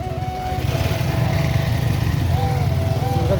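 A TVS Ntorq scooter engine runs steadily as riders set off, a continuous close, fairly loud buzzing drone with a rising whine near the end.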